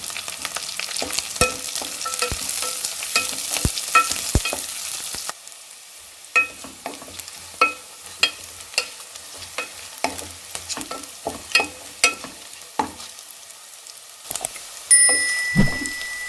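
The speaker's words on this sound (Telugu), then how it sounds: "ఉల్లిగడ్డ కొంచెము మగ్గిన తర్వాత ఇందులో మన పచ్చిమిర్చి, క్యారెట్ కూడా వేసి ఫ్రై చేసుకుందాం" Onion, green chili and carrot fry in a pan, giving a soft sizzle under repeated sharp spatula taps and scrapes, with a brief louder burst near the end.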